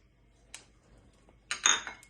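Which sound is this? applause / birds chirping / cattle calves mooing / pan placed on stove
pan placed on stove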